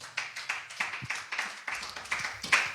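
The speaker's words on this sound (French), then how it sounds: "Est-ce qu'on peut acclamer pour le Saint-Esprit?" A church congregation claps in a steady rhythm, about four claps per second, with crisp, close hand strikes and a few faint voices underneath.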